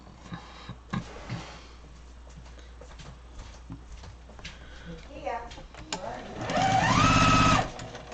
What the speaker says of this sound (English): I'm going to sew all 4 of these